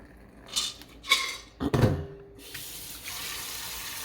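Tap water splashes into a sink as peas are rinsed for rice and peas, with a few short bursts and knocks of handling followed by a steadier run of water.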